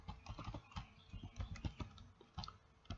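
Someone types quickly on a computer keyboard while entering SQL in DB Browser. The keys clatter in an uneven stream of close, crisp clicks, with no voices over them.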